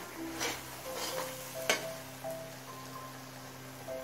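Cashew nuts being stir-fried with spice paste in a pan for a prawn and jackfruit curry: a soft steady sizzle with scraping stirs and one sharp clink near the middle, no talking.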